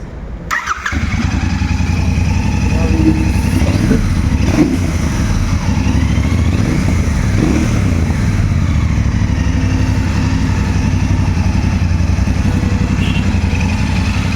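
A Royal Enfield Bear 650 motorcycle engine cranks and fires, then settles into a loud, steady, close-up idle with an even thrum for the rest of the time, with no talk.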